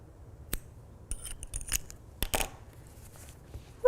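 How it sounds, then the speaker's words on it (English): Scissors snipping yarn while making a small crocheted ghost amigurumi, a few brief, crisp close-up snips and light scraping clicks spread over a few seconds in a quiet room. "I'm just gonna cut this here."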